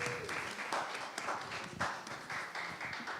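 A meeting audience gives a round of applause, moderately quiet, uneven clapping from a modest crowd heard at some distance, without speech.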